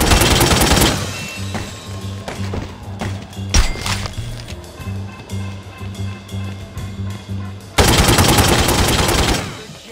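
Bursts of gunfire from The Godfather II video game on PS3, loud dense volleys at the start and end with steadier shots and a rumbling game score between.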